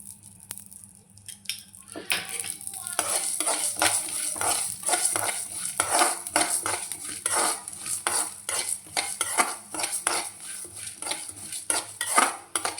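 Lentils and dried red chilies frying in ghee for a drumstick-leaf spice powder, with a steady, close sizzle and frequent scraping clinks of a spatula stirring the pan, and no voices.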